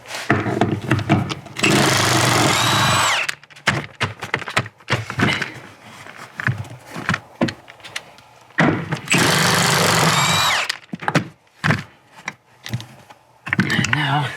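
A power tool runs in two long, loud bursts of about one and a half seconds each, removing 15mm seat bolts from under the carpet of a Jeep, with clunks and handling noise between the bursts.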